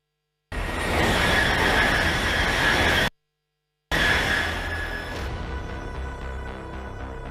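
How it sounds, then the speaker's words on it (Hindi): Japanese E10 bullet train running, a loud broadband roar with a high whine that cuts off abruptly, then resumes after a brief silence and gradually eases, the rumble continuing steadily to the end. "जापान की बुलेट ट्रेन एडवांस E10 में किया सफर"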